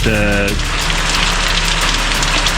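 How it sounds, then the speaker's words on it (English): Rain with wind on a trip day with tornado weather, a dense steady patter hitting a surface close by, with a brief tonal voice-like sound at the start. "And there's wind and rain."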